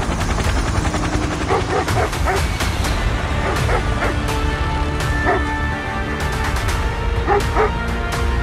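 A dog in a Call of Duty Mobile trailer barking and yipping repeatedly, with short sharp barks spread over a steady music and effects bed and faint gunfire.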